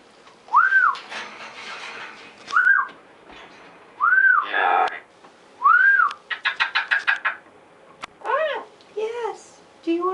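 Blue-fronted amazon parrot whistling indoors: a series of clear rising-falling whistles and warbling trills spread across the stretch, loud and close, with bursts of chatter between them and no voice talking over.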